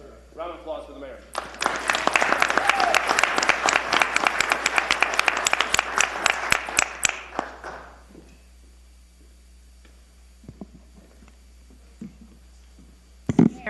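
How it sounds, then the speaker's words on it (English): Applause at a town council meeting, a round of clapping for the mayor: a dense, loud burst from many hands that lasts about six seconds, then fades into a quiet room with scattered faint voices and small knocks. "Round of applause for the mayor."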